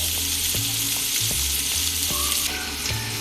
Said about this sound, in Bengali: পেঁয়াজটা আমি হালকা লাল লাল করে ভেজে নেব।